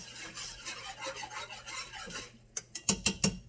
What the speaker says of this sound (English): Whisking it together.